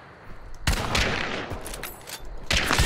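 Gunfire from a weapon in the video game Hunt: Showdown: loud, close bursts of rapid shots, a sustained volley near the start and another burst at the end, with no talking.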